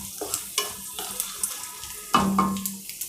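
Chopped small onions (shallots) frying in a pan for vendakai rice, with intermittent scraping and stirring clatter over a low steady sizzle and a brief hum near the end.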